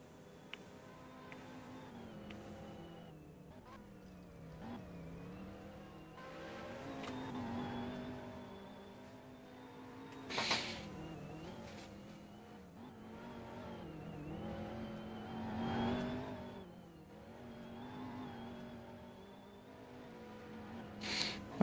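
Race cars in the 2023 SLC GTI Series Super Car Sunday circle a track, with engines droning and rising and falling in pitch as they accelerate and shift, moderately distant, with occasional louder surges.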